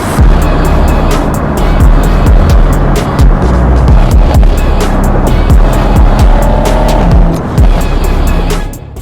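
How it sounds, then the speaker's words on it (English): Loud Mercedes C63 AMG with exhaust popping and crackling in sharp repeated bursts under a steady roaring engine note while drifting, the bangs coming in rapid irregular clusters throughout. "If you're in the right mode, you have these pops when you're going away from the gas pedal."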